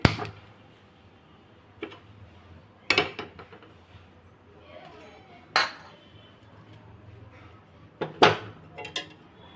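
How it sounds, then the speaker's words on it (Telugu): A small kadai pan set down on a stove in a home kitchen, giving a few sharp metallic clinks and knocks spaced apart over a quiet background hum, close and moderately loud. "ముందుగా మనం ఫ్రెండ్స్ చిన్న కళాయి పెట్టుకొని"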